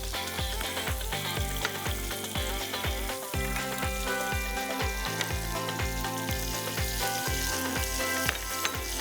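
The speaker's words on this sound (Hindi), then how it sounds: "अब इसी पैन में I am going to put the onions. प्याज डाल दीजिए," Onions fry in a pan with a continuous, fairly loud sizzle that runs throughout, with steady background music playing over it.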